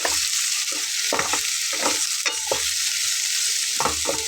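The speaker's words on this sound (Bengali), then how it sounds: "ঢ্যাঁড়সটা কিন্তু 10 মিনিটের মতো ভেজে নেব।" Okra frying in a pan hisses steadily while a spatula stirs it in repeated scraping strokes, close and fairly loud.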